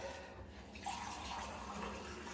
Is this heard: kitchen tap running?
yes